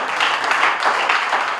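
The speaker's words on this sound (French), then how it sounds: "Applaudissons très fort pour lui-même" A crowd of wedding guests claps loudly, a thick wash of steady applause with slight swells, close and sustained for the short stretch.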